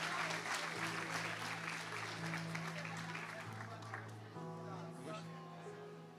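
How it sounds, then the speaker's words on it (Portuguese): A church congregation applauds with dense, sustained clapping throughout, fading slightly toward the end beneath a held musical tone. "Você pode dar mais um aplauso ao Senhor?"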